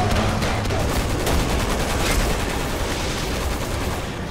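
Sustained heavy gunfire in Resident Evil 6 co-op combat, a dense, loud barrage of rapid automatic shots with booming impacts running the whole time without letup.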